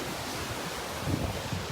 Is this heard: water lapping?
yes